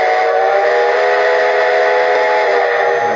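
A steam whistle on a Lionel Reading & Northern 425 model train blows one steady, loud, sustained tone for about three seconds with no pause, sounding bright and close.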